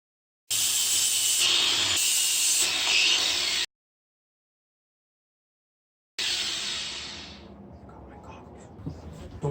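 Water sprayed onto hot, non-structural welds on a mini-bike frame, a loud broad hiss in a steady burst, then silence, then a second hiss that fades into quieter shop noise.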